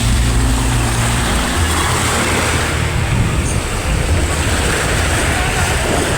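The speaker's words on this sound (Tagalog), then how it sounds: "maririnig nyo lang guys ang alon ng dagat" Sea waves at night roll in a continuous, loud wash of surf mixed with wind buffeting the microphone and a low rumble, with no clear breaks between swells.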